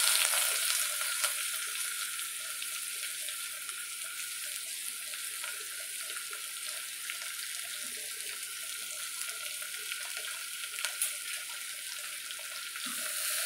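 Onion sautéing in hot oil with whole spices such as shahjeera for mutton kabuli pulao, a steady close sizzle running throughout with faint scraping stirs and no voices.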